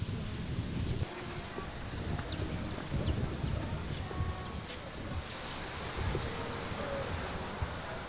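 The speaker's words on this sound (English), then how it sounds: "A little bit windy, but. But I think the wind helps with the heat." Gusty wind on San Andres Island, Colombia, buffets the microphone in low rumbling surges, with faint distant bird calls and rustling in the background.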